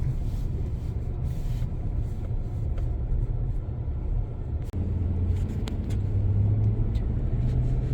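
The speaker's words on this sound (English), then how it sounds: "we are driving downtown Madison, Wisconsin, state capital" A car driving through snowy downtown Madison, Wisconsin, a steady low road rumble with tire noise and slush spray, occasional clicks and a brief dip midway, no talk.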